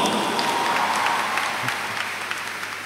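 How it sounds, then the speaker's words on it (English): Convocation crowd applauds the graduates in a big hall, a dense roar of clapping that is loud at first and slowly eases off toward the end. "I would like everyone to give the graduates a big round of applause."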